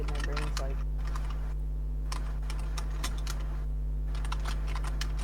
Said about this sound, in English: I'm hearing somebody typing loudly